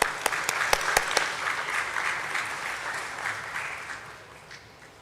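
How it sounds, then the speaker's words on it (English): An audience at the NIIT Learning Systems stock listing ceremony claps in a dense burst of applause that starts strong with sharp individual claps and gradually fades. "Let's give a huge round of applause for him,"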